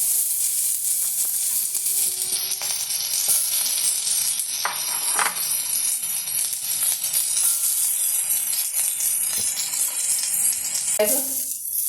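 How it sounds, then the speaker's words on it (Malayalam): Chopped onions and crushed garlic sauté in a pan, a steady close sizzle and hiss with intermittent stirring scrapes and a brief clink of a utensil near the end. "ഇനി നമുക്ക് അരിഞ്ഞു വെച്ച സവാള എല്ലാം കൂടെ നമുക്കൊന്ന് വഴറ്റിയെടുക്കാം."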